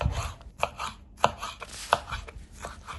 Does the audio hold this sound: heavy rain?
no